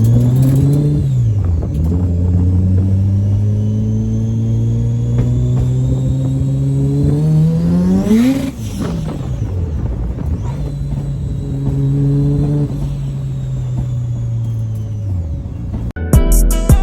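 A Mazda 323 fitted with a 13B turbo rotary engine drives along, its loud, steady buzzing drone rising in pitch through a couple of revving accelerations, easing off, then climbing again, with no voices.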